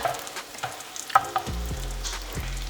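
Oil sizzling and crackling steadily as a veggie bean burger patty fries, with a few sharper pops and clatters, close up and no talking.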